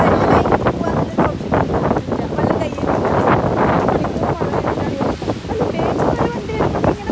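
Strong wind roars and buffets steadily throughout on a rainy, stormy day in Sharjah, with broadband rumbling and gusty surges that never let up.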